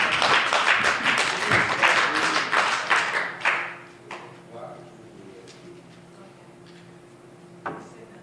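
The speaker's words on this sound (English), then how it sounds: "applause for Daniel Williams." Audience applause at a bar open mic night, a burst of clapping from a small crowd that is loud at first, then fades to a few scattered claps within a few seconds.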